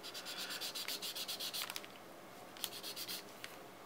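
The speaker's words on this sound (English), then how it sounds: "I've been using my sanding sticks, working from fine" A Gundam HG Zaku plastic model kit part is rubbed with fine sanding sticks, close and quiet, in quick rhythmic back-and-forth strokes that pause and resume in short bursts.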